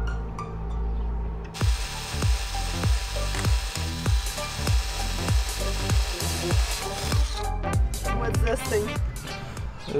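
A threading tool cuts threads on a bolt for a boat's radar mount, making a steady, rhythmic ratcheting crunch that repeats about every half second, close and loud, while a voice talks over it.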